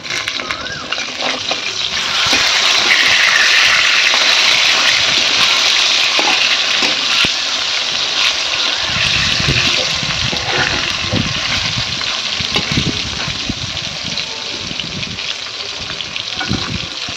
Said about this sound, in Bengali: মাছটাকে এখন উল্টিয়ে দেবো।